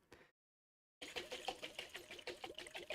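Salad dressing is shaken hard in a lidded container, a quick steady rattling slosh starting after a moment of silence and continuing close and rhythmic to the end.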